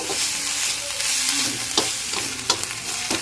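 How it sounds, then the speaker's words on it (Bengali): Mashed bottle gourd leaves are stirred in a pan over a low flame, a low steady sizzle broken by several scraping strokes of the spoon, close and moderately loud. "স্বাদ মতো নুন মিশিয়ে নেব এখন ভালো করে নেড়ে চেড়ে নিচ্ছি"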